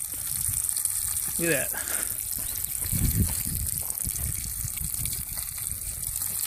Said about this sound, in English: Cook some bacon in Lexada stove.